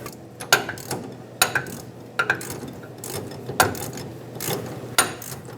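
A ratchet wrench tightens a nut on an air bag spring bracket of a 1999-2007 Ford F-350, giving several short bursts of close, sharp clicking with pauses between strokes.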